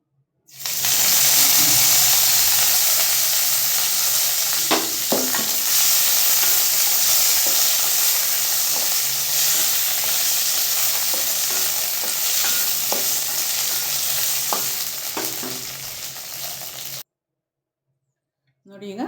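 Vegetables sizzle steadily in hot oil in a pan, with the scrape and tap of stirring breaking in now and then, before the sound cuts to silence near the end.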